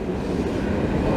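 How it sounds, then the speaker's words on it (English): Pendolino high-speed train passing through central Prague near Old Town, a steady broadband rumble of rolling stock that stays loud and close through the whole moment. "That's a slightly more modern high-speed train."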